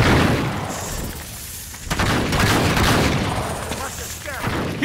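Gunfire in the Uncharted 3 video game as dense bursts of shots and booms, loud and continuous, with shouted voices mixed in during a frantic firefight against aggressive creatures.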